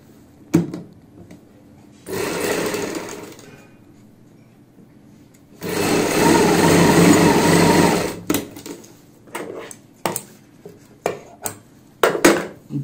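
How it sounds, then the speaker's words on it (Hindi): A sewing machine stitches the zip on palazzo pants in two bursts, the second longer and steadier, followed by scattered clicks and handling knocks of fabric and tools. "और यहाँ पे सिलाई लगाएंगे"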